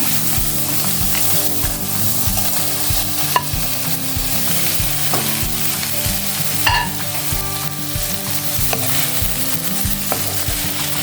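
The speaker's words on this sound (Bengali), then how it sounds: "এবার এতে ভেজে রাখা পটলগুলো দিয়ে দেব।" Fried pointed gourd pieces tossed into sizzling oil and stirred, a steady close crackle with repeated scraping strokes of a spoon against the pan, no voices.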